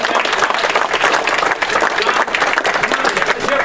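Steady, dense applause from a large audience at a Young Democrats dinner fills the space, loud and continuous throughout, with a few voices faintly mixed in.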